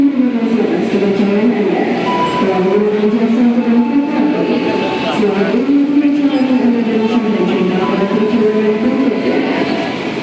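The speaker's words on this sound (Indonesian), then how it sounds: "ini kereta api Majapahit yang akan membawa kita berdua nih" Steady rumbling of the Majapahit passenger train in motion, an Indonesian economy-class service on the Jakarta line, with a droning, wavering hum throughout, loud and continuous; faint voices may sit underneath.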